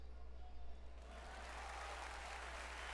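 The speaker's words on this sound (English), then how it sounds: "There was a huge wave of applause." In the visual novel game Steins;Gate 0, a conference audience breaks into a swelling wave of applause that grows and fills the room over a low steady hum, faint and distant.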